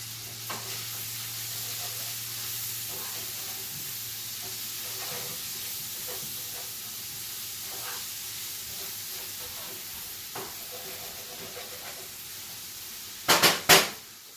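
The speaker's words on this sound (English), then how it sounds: "Let me stir that shit real quick." Bacon and onion fry together in a pan with a steady close sizzle and soft intermittent scraping as they are stirred, ending in a few loud clanks against the pan.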